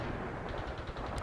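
Rapid automatic gunfire rattles in the real-time strategy game World in Conflict: Soviet Assault, a quick run of close bursts over a low rumbling battle bed, fairly quiet and with no talking.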